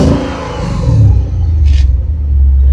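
A 2011 Infiniti M56x engine heard from inside the car, a deep, close, throbbing rumble that swells as it accelerates, with a brief faint hiss partway through.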